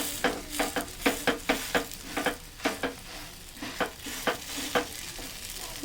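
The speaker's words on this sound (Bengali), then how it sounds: "এবার নিচের দিকটাও লাল করে ভাজবো" A soft bottle gourd pitha fries in a pan while a spatula presses and scrapes it in a quick, regular rhythm, with a low sizzle running underneath and no talking.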